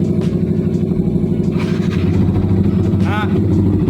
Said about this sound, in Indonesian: kita sambil manasin motor ini juga nih cuy